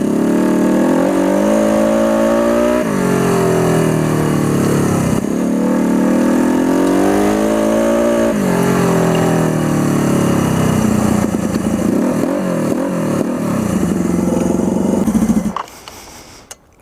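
A turbocharged Suzuki GS400 scrambler motorcycle revs loudly and continuously nearby, its pitch rising and falling through several throttle sweeps as the turbo spools, before the engine abruptly cuts out near the end.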